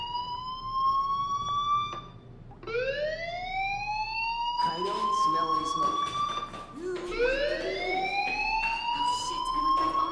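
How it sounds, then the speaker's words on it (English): A fire alarm in the Life Is Strange video game sounds in rising, repeated siren-like sweeps. Several loud wails carry through the whole stretch, and a voice speaks briefly over them. "do you hear that fire alarm? That means you should be outside."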